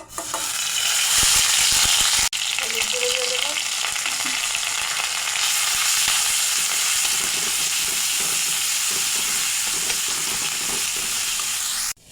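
Ground spice paste hits hot mustard oil that already holds a tempering of bay leaf, dried red chilli and nigella seeds. A loud, constant sizzle runs throughout, marked by one sharp clack near the start.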